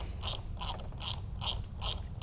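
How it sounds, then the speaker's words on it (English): Finger ratchet turning T25 screws on the rear light of a Lamborghini Huracan, five evenly spaced bursts of clicking at close range, steady rhythm with no talking. "We've swapped over to a smaller finger ratchet."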